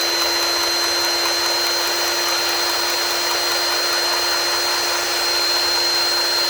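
A DeWalt DCGG571 cordless grease gun runs continuously, its steady motor whine holding an even pitch with a high tonal hum throughout, loud and close, with no talking.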